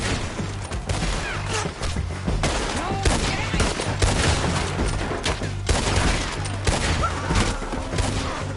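Gunfire in Red Dead Redemption 2, with dense, continuous volleys of shots and booms sustained at a loud level throughout, mixed with faint voices.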